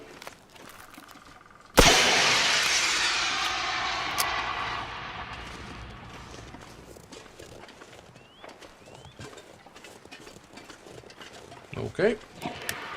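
Flare fired in the survival video game The Long Dark, a sudden loud ignition bursting into a sustained fizzing hiss that slowly fades over several seconds, followed by quieter rustling and faint sounds.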